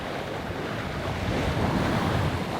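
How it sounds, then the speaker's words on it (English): Open ocean waves and wind while a sailboat crosses the North Atlantic, a constant loud rush of surf and wind buffeting the microphone with no voices. "I was just talking about the waves."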